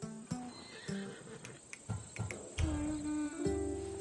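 Horse neighing in the video game Assassin's Creed Odyssey, a Skiros mount sold as sure-footed on mountain passes, with a few short whinnies and snorts over light ambient game noise, fairly close.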